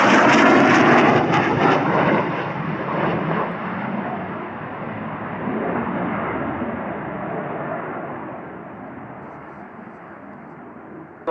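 A flight of military jet aircraft leaving a low-flying area gives a loud, broad engine roar that is strongest at first and then fades steadily into the distance.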